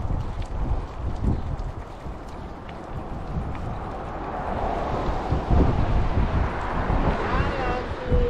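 Wind gusting outdoors at Cape May on a mild day, buffeting the microphone in loud, rumbling bursts that swell and ease over a steady roar, with faint clopping and movement underneath.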